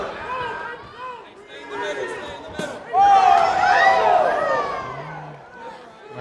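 A crowd at a Caged Aggression MMA cage fight roars and murmurs in a loud swell midway after a strike, with commentators talking over the noise.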